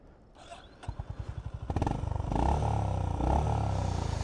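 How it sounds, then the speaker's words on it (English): A Honda GB350S air-cooled single-cylinder motorcycle engine starts with a few slow putts, then settles into a loud, steady thumping idle close by. "I really like the putt-putt sound that comes from the engine. Let's have a listen."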